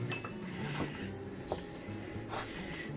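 A kitchen knife slices partly frozen Italian sausage into rounds on a cutting surface, a few sharp, separate taps spaced about a second apart against quiet room background.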